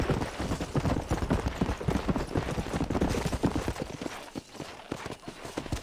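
Horse hooves gallop in Red Dead Redemption, a loud, fast and continuous clip-clop rhythm that stays close and steady throughout, with no talking.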